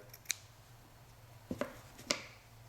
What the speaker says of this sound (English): you cut the wicks along the length or the way the fibers go on the cotton